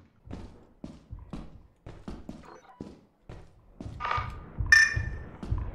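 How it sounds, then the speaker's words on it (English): A thumper monster in the video game Lethal Company thumps in a run of regular heavy beats, fairly close, followed by a few scuffling sounds and a brief sharp noise at the end. "I hear thumping."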